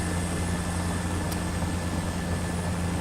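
Helicopter engine spooling up to 3100 RPM in Microsoft Flight Simulator 2024, heard as a steady, droning turbine hum with low rotor rumble, continuous and even with no talking.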